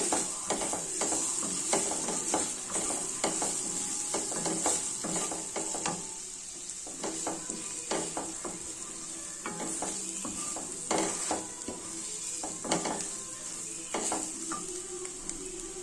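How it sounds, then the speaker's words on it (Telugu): Red chili powder and turmeric fry in a pan for a chaat-style snack, a steady close sizzle broken by repeated scraping, clinking strokes of a spoon stirring. "రెడ్ చిల్లీ పౌడరు కొంచెం పసుపు బాగా వేయించుకోవాలండి"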